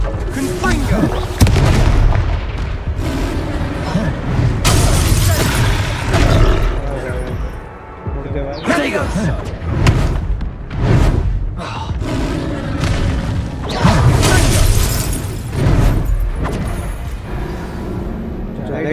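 Explosive Confringo spell blasts in the Hogwarts Legacy video game, several heavy booming thuds in a row amid loud game combat noise, with a person talking over them.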